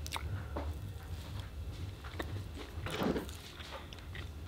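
Someone bites and chews an undercooked, flan-like cake. The soft, wet chewing and squishing are close and fairly quiet, with small clicks and a slightly louder squelch midway.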